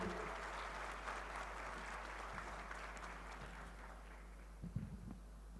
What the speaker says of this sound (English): Let's have a huge round of applause, ladies and gentlemen.